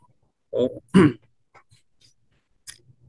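Two short, near throat-clearing coughs from one person, followed by a few faint breaths and small mouth sounds.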